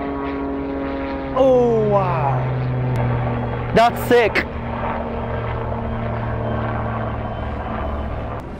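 Propeller plane passing overhead at an Austrian event, a steady airscrew drone with pitch sweeping down as it goes by, loud throughout under excited shouting.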